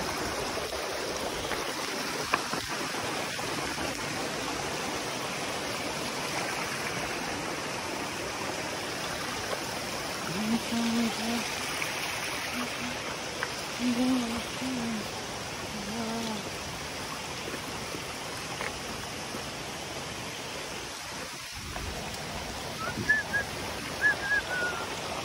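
A mountain stream rushes steadily with broadband water noise, continuous and fairly distant, on a hillside road damaged by landslides, with faint brief voices now and then.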